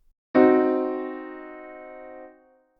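A single diminished chord is struck once on a keyboard, ringing clearly and sustaining for about two seconds before being released.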